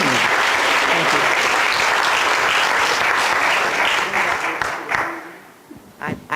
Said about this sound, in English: I want us to give a round of applause to Mr. Richardson.